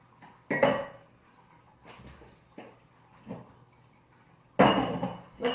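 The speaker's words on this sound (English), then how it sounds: "I'm getting a jar." Glass mason jar clinks and knocks against dishes as it is taken out, several sharp separate impacts with quiet gaps and a louder clatter near the end.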